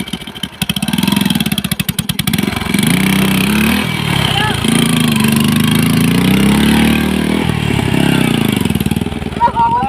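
A motorcycle engine runs loud and steady with a rough, throbbing idle for about ten seconds while people talk over it throughout.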